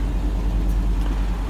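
A Land Rover 90 V8 engine runs with the vehicle standing still, a steady, loud, low rumble that stays even from start to finish.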